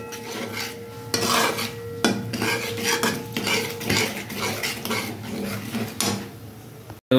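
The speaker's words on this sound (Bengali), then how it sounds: "যতক্ষণ না মশলা দিয়ে তেল ছাড়ছে ততক্ষণ আমি এইভাবে নাড়তে থাকবো" A utensil scrapes and clatters against a pan while spice paste mixed with sour yogurt is stirred. The strokes come in repeated rhythmic passes over a low frying hiss, fairly close, with no one talking.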